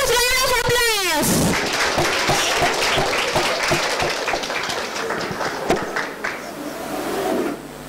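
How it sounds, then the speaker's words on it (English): Audience applause welcoming a group of children onto the stage at a school event, a dense burst of clapping that follows a short spoken announcement and continues steadily under some stray voices. "let's welcome our twinkling stars of next batch with huge round of applause"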